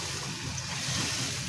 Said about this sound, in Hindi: ये मैं पानी डालने लगी उसके अंदर